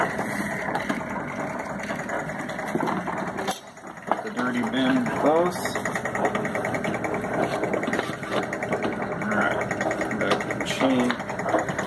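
A Carp-Co magnetic separator motor runs with a steady mechanical hum and rattle, close and continuous, briefly dipping before resuming, while a person talks over it.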